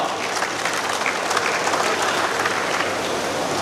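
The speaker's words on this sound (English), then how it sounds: "please give them a big round of applause" A Rotary district gathering's audience claps steadily and densely for about three and a half seconds, a sustained wash of many hands with no clear pauses.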